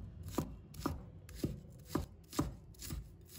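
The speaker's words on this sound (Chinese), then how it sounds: "把葱白切成小粒" Knife chopping scallion whites into small pieces on a cutting board, six or seven crisp, evenly spaced strokes about half a second apart, close and clear with no talking.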